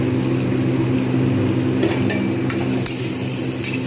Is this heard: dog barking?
no